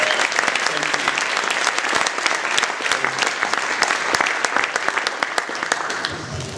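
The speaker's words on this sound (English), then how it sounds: "Give him a round of applause for it." An audience at a TrailLife USA talk in Atlanta breaks into sustained applause, dense rapid clapping holding steady and close throughout, with no break.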